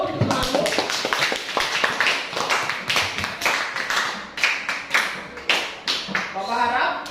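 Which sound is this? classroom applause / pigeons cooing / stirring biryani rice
classroom applause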